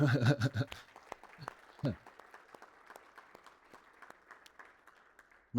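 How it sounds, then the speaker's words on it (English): Audience applause at the Explore DDD 2024 software design conference follows a brief burst of speech, then settles into a steady, moderately faint patter of clapping that fades out near the end. "Maybe you all think that there's too much applause, but not enough, actually."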